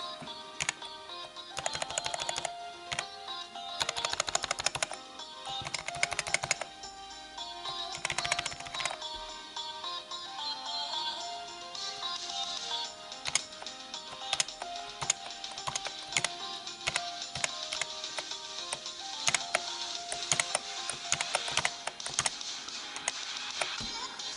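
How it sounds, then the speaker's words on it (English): Typing on a Magegee or Ducky One 2 Mini mechanical keyboard, a dense steady patter of close, crisp keystrokes continuing throughout with brief bursts and pauses, no talk. "Let's start the typing."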